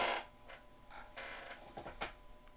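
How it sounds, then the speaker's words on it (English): A short series of dry creaks and mechanical ticks, several separate strained groans spaced unevenly over a couple of seconds, fairly quiet and close. "A creak."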